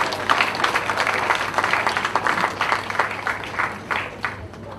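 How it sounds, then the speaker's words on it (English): Audience at a university research conference giving a steady round of applause, moderately loud and sustained for several seconds, with no talk over it. "Please, can we give another round of applause?"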